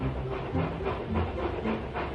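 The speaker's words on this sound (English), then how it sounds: "James and Edward puffed into the yard." Rhythmic steam chuffs pulse from two steam engines puffing into a yard, several puffs in a steady beat amid hiss and rolling rail noise.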